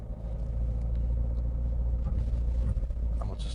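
Car driving slowly into a driving test centre car park, a steady low engine rumble and road noise running continuously and close, with no talking.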